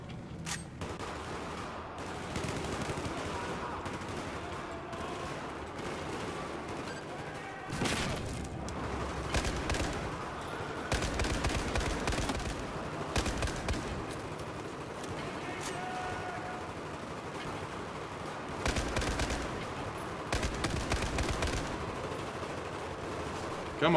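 Bursts of automatic gunfire and scattered shots crackle through a Battlefield 4 single-player campaign firefight, loud and near, coming in irregular volleys with lulls between.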